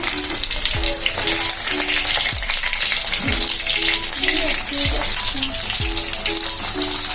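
Dried fish (shutki) frying in hot oil in a home kitchen, giving a steady loud sizzle throughout, with a few soft thuds and clatters of a utensil against the pan.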